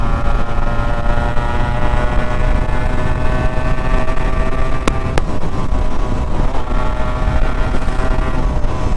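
A Yamaha RXZ 5-speed two-stroke motorcycle cruising at speed, its engine holding a steady, continuous buzzing drone with slight vibration, loud and close, with rushing wind underneath and a couple of brief clicks.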